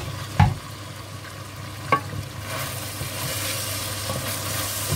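A spoon stirs a vegetable and meat stew simmering in a pot, a soft continuous scraping and bubbling sizzle with a couple of brief clinks against the pot, close and alone.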